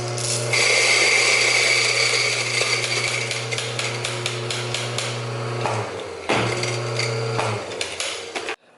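Coffee beans are ground for hand-drip brewing, giving a steady, loud mechanical whir with dense rattling grit that dips briefly near the end. No one speaks.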